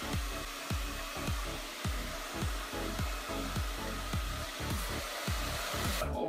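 Hair dryer blowing heat while a quiff hairstyle is styled, a close, steady rushing roar broken by rhythmic brushing or combing strokes, cutting off just before the end.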